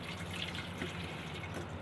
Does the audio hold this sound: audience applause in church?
no